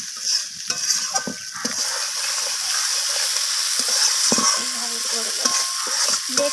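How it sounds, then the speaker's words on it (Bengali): Fried rohu fish pieces are stirred through a spiced masala in a pan for home-style rui kalia, giving a steady close sizzle broken by scraping spatula strokes, with no talking. "মশলার সাথে একবার মাছগুলোকে আমি এইভাবে কষিয়ে নিচ্ছি"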